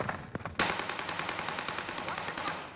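Rapid automatic gunfire in a video game shootout, a dense sustained burst of shots starting abruptly after a few faint earlier pops and continuing loud to the end.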